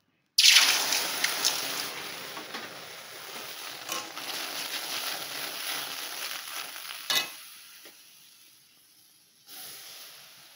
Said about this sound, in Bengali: ধনে জিরে হলুদ একটু গরম মশলা দিয়েছি